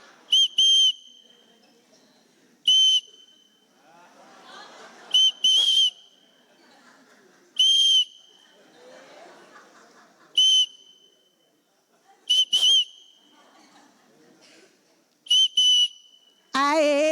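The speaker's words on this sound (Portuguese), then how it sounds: "Se eu fizer 2 apitos, vocês sentam." Short, shrill whistle blasts sound repeatedly, some alone and some in quick pairs, separated by quiet stretches of faint movement and murmuring.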